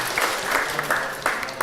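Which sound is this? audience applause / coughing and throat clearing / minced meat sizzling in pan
audience applause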